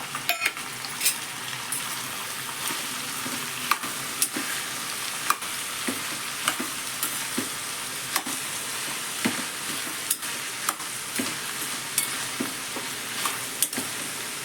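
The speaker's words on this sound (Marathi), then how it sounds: "आधी या भाज्या मी परतून घेते ह्या भाजीबरोबरच मी हे टोमॅटो सुद्धा परतून घेते" Mixed vegetables and tomatoes sauté in oil with a continuous close sizzle, punctuated by regular scraping and knocking of a spatula against the pan, with no one talking.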